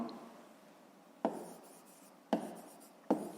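Pen or pencil writing on paper while a fifth-grade maths exercise is worked out, three sharp scratchy strokes spaced about a second apart over faint room hiss, close and quiet.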